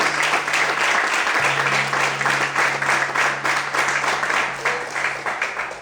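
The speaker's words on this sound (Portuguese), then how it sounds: "Será que você pode aplaudir e glorificar o Senhor por isso?" A church congregation applauds steadily and continuously, a dense wash of clapping with a low organ-like hum sustained underneath.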